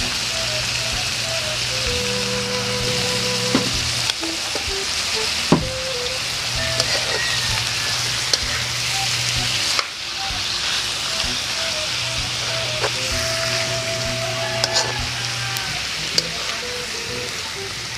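Chicken liver and gizzard sautéing in a pan, a steady loud crackling sizzle throughout with occasional clinks of stirring and faint background hum, close to the pan.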